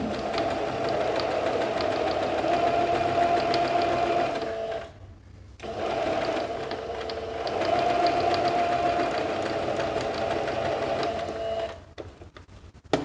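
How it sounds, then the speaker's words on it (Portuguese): A sewing machine runs steadily along the edge of fabric, stitching a light holding seam for a small organizer pouch, with a brief pause midway and the motor stopping near the end; no one speaks. "A costura de segurança é só para segurar o tecido no canal que a gente já fez"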